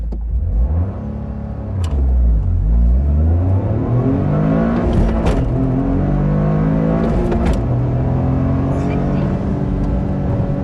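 A Toyota GR Corolla accelerating hard in a 0-60 run, the engine revving up loudly through several rising gear pulls with brief drops at the shifts, heard from inside the car with a voice speaking briefly.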